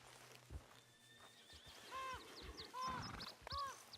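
A horse in Red Dead Redemption 2 lets out several loud, close whinnies in quick succession, with a few soft hoof thuds on the ground underneath.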